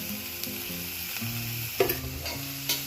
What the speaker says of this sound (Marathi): चला आता चांगला परतून घ्यायचा आहे कांदा.